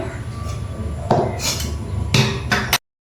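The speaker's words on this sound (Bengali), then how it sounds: "আমি একটা এখানে পাত্র বসালাম" A metal cooking pot is set down on a home stove while making khichuri, giving a few sharp clanks and scrapes in the second half, close and fairly loud, with no talking.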